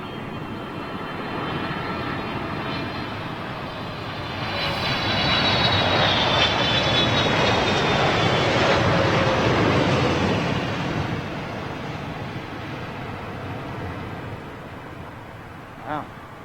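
An Emirates jet airliner passes at London Heathrow Airport, a loud broad engine roar that swells to a peak midway and then fades, with a faint voice heard briefly.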